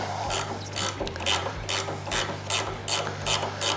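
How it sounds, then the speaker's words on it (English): A half-inch wrench ratchets to loosen a pinch bolt by the shift lever on a 2022 Harley-Davidson Low Rider ST, giving about eight quick bursts of metallic clicking in a steady rhythm, close up and alone. "take the 1/2 inch wrench and loosen up this guy. This pinch bolt here."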